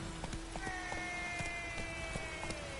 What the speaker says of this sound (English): My horse.